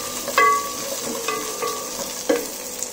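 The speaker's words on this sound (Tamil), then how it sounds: "1-2 ஸ்பூன் அளவுக்கு பொட்டுக்கடலை, 1 எழுத்து முந்திரி, இதை போட்டு நல்லா வதக்கிக்கலாம் 1-2 நிமிஷம்" Roasted gram and cashews sautéing in ghee crackle softly with steady stirring, a few sharper clinks of the spoon against the pan standing out.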